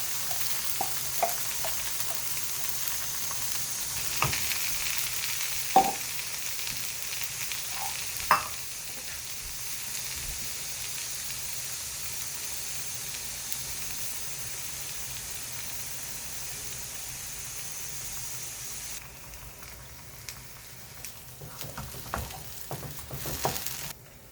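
A pan of ground ginger curry paste with curry leaves sizzles and hisses steadily, with occasional clinks and stirring knocks, the frying noise easing off toward the end.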